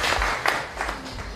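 Audience applause at a science-fiction film forum, a broad steady wash of clapping filling the room throughout, with a few sharper claps standing out and no voices over it.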